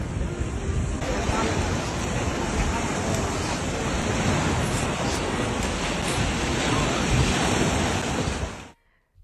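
Sea waves breaking on the shore, a loud continuous roar of surf mixed with wind buffeting the microphone, running steadily for most of the clip before cutting off.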